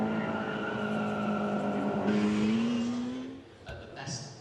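A BMW 1600 Ti racing car accelerates hard up the Chateau Impney hill climb course, its engine pitch climbing steadily as it pulls away, then fading with a gear change while a narrator talks over it.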